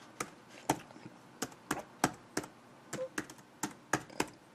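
Keys clatter as a password is typed on an early unibody MacBook Pro keyboard, about twenty distinct, irregular clicks and taps heard close and alone.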